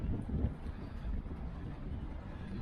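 Strong wind at a truck stop buffets the microphone with a steady, low roaring rumble that continues unbroken, with no voices.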